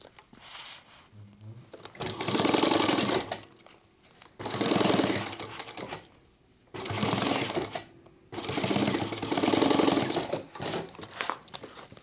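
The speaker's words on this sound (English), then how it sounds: "we're going to stitch this with a 3/8 inch seam allowance" A sewing machine stitches a seam on a sling crossbody bag in four rapid, rattling bursts of a few seconds each, separated by brief pauses.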